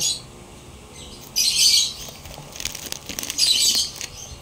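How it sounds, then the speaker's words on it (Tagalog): Pet birds squawking loudly in short bursts nearby, with some chirping and rustling in between. "Iingay yung mga ibon ko."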